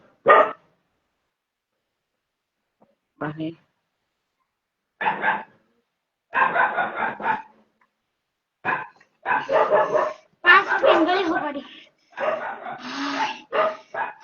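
Loud dog barks close by, coming in irregular bursts of one to several yelps, with a voice briefly speaking among them.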